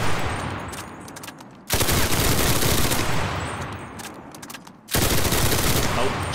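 Dense, sustained automatic gunfire from the World War II shooter Enlisted fills the soundscape in three long, loud bursts, separated by brief breaks near two and five seconds.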